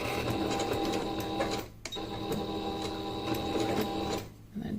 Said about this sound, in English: And then just go ahead and start sewing.